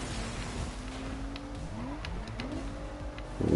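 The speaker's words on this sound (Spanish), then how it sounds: "¿Cómo suena el coche?" Car engine driving in Saints Row, a quiet engine hum rising and falling in pitch as it revs and shifts, with a louder burst at the end.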